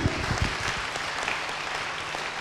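A church congregation breaks into applause at a preaching service, dense sustained clapping from many hands, fairly loud and even throughout.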